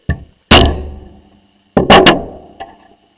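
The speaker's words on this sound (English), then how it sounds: "you can always use your mainspring housing as a tool to kind of knock this thing down" Sharp knocks as a metal mainspring housing is used to tap down a 3D-printed tourbillon part: one faint tap, then a loud strike, a quick cluster of two or three more, and a final lighter knock, each with a short ringing decay.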